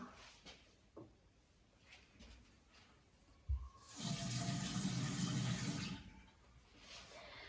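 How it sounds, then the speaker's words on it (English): Water gushes steadily from a tap for about two seconds while hands are washed, close and fairly loud, framed by quieter room noise and a few soft knocks before and after. "Before we start, let's wash our hands."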